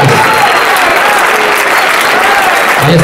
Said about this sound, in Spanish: Venga, le damos unas palmitas al Faro, que se la va a jugar el muchacho.